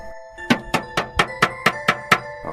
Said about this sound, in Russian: это был звук удара кулака по стеклу